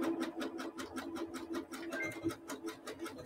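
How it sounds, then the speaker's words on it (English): A sewing machine backstitches through rope while stitching a rope bunny coaster, giving a quick, even run of soft mechanical needle clicks at close range with no talk. "Now here is okay to backstitch a little bit."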